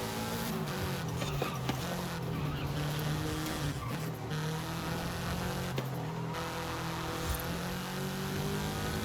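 A modified Subaru WRX with nearly 700 horsepower drones steadily from inside the cabin while driving, its engine tone rising and falling with brief tire noise, loud and continuous.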